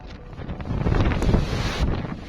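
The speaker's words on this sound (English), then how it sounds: "Eyewitness video showing massive waves crashing into the coastline and gushing floodwaters on the street" Storm wind and surf from Super Typhoon Fenghuang striking the Philippine coastline, a dense, continuous roar of gusting wind and crashing water that builds after the first half second and stays loud throughout, with no talk.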